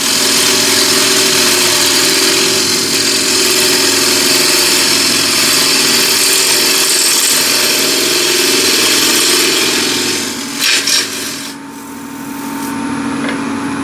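A machine spindle spins steadily at 1281 RPM, giving a continuous close hum with a bright hiss over it that dips briefly near the end.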